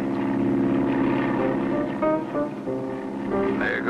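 Propeller plane flying in a 1959 Clutch Cargo cartoon, a loud continuous droning engine with wavering tones that runs without break, music-like tones mixed in.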